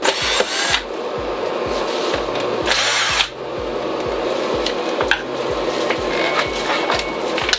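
A power drill backs out mounting plate screws, whirring in short rhythmic pulses with repeated trigger bursts, close and loud, with a brief rattle partway through.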